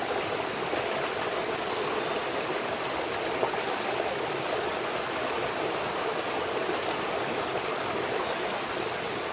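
Creek running near a tent campsite on a bike tour through the Balkans, a steady, dense rush of flowing water, close and continuous, with no voices.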